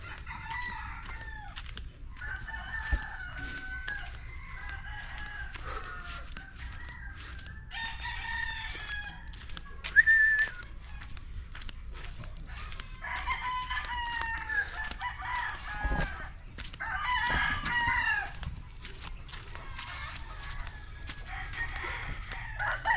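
Roosters crowing and clucking at a cockfight, with several birds calling at once, some close and loud and others farther off, over a steady background murmur.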